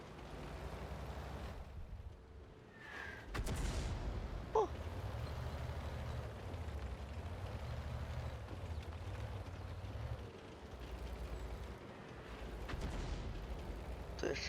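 Tank cannon fire in World of Tanks: one sharp, heavy shot booms out early, then engine rumble and battle noise run steadily underneath with a few fainter thuds.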